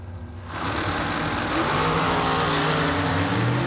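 A dragster race car roars down the track at a bracket racing event, its loud broadband engine noise rising after a brief quieter start and holding steady and strong to the end.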